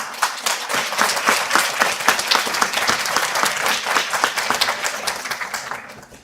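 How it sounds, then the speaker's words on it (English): Graduates in a hall give a round of applause for their families at a certificate graduation ceremony, loud continuous clapping with audible individual claps in the mix, fading out near the end. "let's just give them a round of applause"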